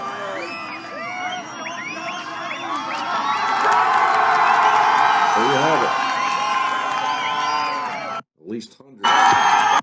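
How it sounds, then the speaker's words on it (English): Large crowd cheering and shouting at a protest in Iran, loud overlapping whoops and high voices building and sustaining, then breaking off briefly before resuming, with someone speaking over it near the end. "At least hundreds out there cheering for them taking down, "Death to America" signs."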